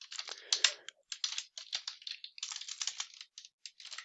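Typing on a computer keyboard, rapid close key clicks in irregular bursts with brief pauses, no voices.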